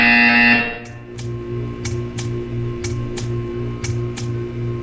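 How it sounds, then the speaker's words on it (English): A short buzzer sounds in the Portal 2 video game against a steady electronic hum, followed by a regular series of brief ticking clicks that repeat at about half-second intervals. "You will hear a buzzer."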